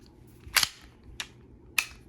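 Three sharp mechanical clicks and snaps from the slide of a Sig Air M17 gas blowback airsoft pistol, spaced apart, close and crisp against a quiet background.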